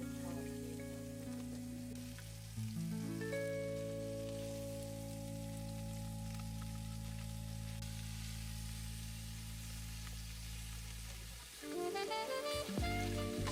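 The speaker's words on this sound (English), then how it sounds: "Then we add the turkey and start browning it." Turkey pieces browning in a little hot oil in a pan, giving a steady crackling sizzle over a hum that dips briefly near the end, then returns as louder spattering.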